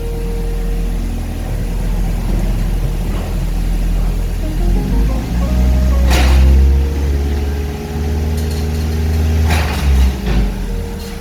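A Ford Focus engine idles at roughly 1000 to 1200 RPM, a loud and steady low drone with slight shifts in pitch and a few brief clicks and knocks over it.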